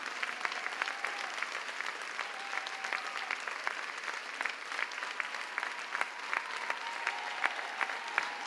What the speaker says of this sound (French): Il mérite encore des applaudissements, s'il vous plaît.